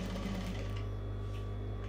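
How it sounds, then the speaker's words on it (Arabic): A sewing machine runs steadily as it stitches a chiffon scarf, its hum continuous and close with no speech over it. "بسم الله، في المرحلة دي احنا نضايق الغرزة شوية"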